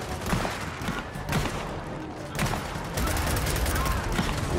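Sustained gunfire from the Gears of War 4 campaign opening on Xbox One, continuous bursts of rifle fire in a dense battle mix with shouted voices throughout.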